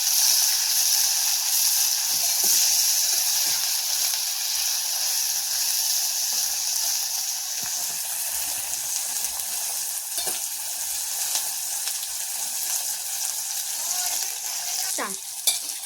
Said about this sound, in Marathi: कोथिंबीर पण आपल्याला छान तळून घ्यायची मिरच्यांसोबत